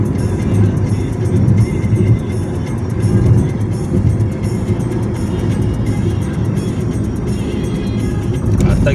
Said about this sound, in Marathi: आता गिअर चेंज केलाय 5व्या गिअरवर आहे गाडी.